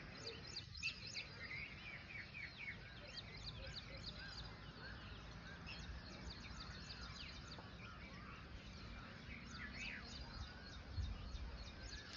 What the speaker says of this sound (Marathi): घरावरती आहे मी, पक्ष्यांचा किलबिलाट